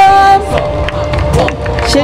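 Applause from a convention-hall audience at a Buddhist blessing ceremony in Seattle, a broad wash of clapping and crowd murmur with tonal background sound, steady and moderately loud throughout.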